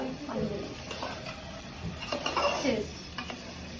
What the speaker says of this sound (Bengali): এই তো মাংসটা কষানো তারপরে চালটা দিয়ে একটু ভাইজা